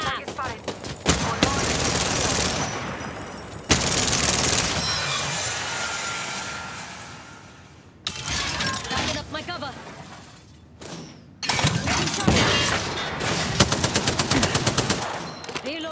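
Sustained automatic gunfire in Apex Legends, long loud rattling bursts separated by brief pauses, continuing for most of the stretch, with a voice talking over it at times.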